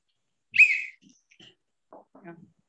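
A teacher blows one short, sharp whistle near the start during a preschool game in an online class, followed by faint, scattered sounds in a mostly quiet room.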